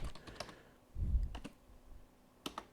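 A computer keyboard clatters in quick bursts of keystrokes while someone writes VB.NET code, with a dull thump partway through and brief pauses between the clicks.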